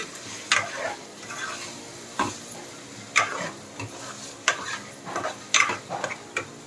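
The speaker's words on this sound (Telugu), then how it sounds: "చికెన్ ముక్కలు బాగా ఫ్రై అయితే కర్రీ చాలా బాగుంటుంది" Chicken pieces frying in oil for a curry are stirred, with a spoon knocking and scraping the pan roughly once a second over a continuous low sizzle.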